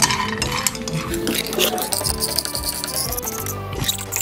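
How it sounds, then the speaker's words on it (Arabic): Dates roasting in a frying pan while being stirred continuously give off steady clinking and scraping of utensil against metal, with light rattling and sizzle up close, and no talking. "بعد كده بنقعد نحمصها ونقلب فيها بشكل مستمر"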